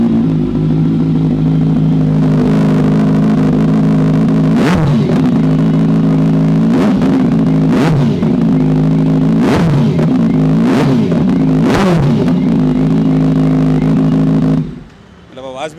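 Kawasaki Z900 motorcycle with a replica Racefit full-system exhaust idling loudly, then blipped through several sharp throttle revs, each rising and falling quickly, before cutting off near the end; a voice talks over the engine.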